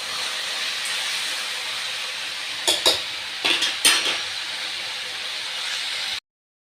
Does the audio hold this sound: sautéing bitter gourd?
yes